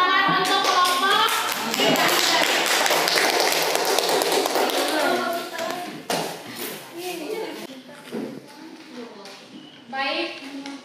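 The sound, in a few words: audience clapping for a presenting group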